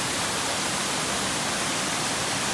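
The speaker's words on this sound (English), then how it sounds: "So we reached the waterfall" Tangerine Falls roars as a steady, loud, broadband rush of falling water heard up close on a hiking trail, constant and unbroken with no voices.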